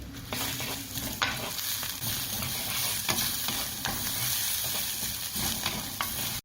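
Rampe, curry leaves, salt and green chili being stirred in hot oil for a Sri Lankan winged bean curry, a continuous close sizzle with repeated scraping stirs.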